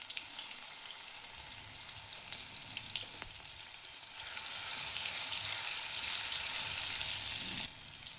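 Garlic and mustard seeds sizzle in hot oil while making a potato and semolina vada snack, a steady crackling hiss that grows louder and denser midway before easing slightly near the end.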